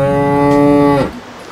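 A cow on Norfolk Island, near the beach at Cemetery Bay, lets out a single loud, drawn-out moo lasting about a second, close by. The call then cuts off into quiet outdoor ambience.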